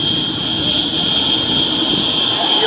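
An all-balsa Ziroli Panther RC jet with an electric ducted fan flies past at a warbirds airshow, producing a steady, loud whine with a high tonal edge over broad rushing noise that holds constant throughout.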